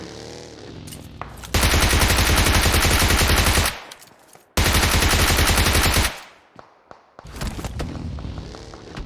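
Two long, loud bursts of sustained automatic gunfire in PUBG Mobile, each lasting a couple of seconds and separated by a brief gap, followed by scattered quieter shots.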